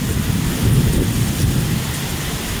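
Heavy thunderstorm rain pours steadily in East Memphis, Tennessee, in August, with a deep, rolling rumble of thunder underneath, a dense continuous roar with no voices.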